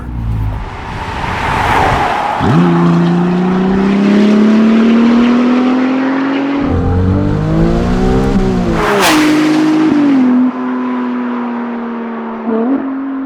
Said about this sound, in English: the soundtrack of that gorgeous Novitec exhaust